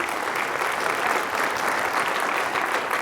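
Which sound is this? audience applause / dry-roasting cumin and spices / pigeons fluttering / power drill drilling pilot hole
audience applause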